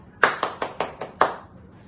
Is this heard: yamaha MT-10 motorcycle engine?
no